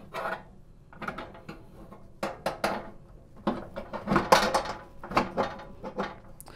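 A metal rotisserie spit is fitted and locked into a toaster oven above a drip plate, producing a run of scraping, rubbing and clinking metal contacts that come irregularly and grow busier and louder toward the end.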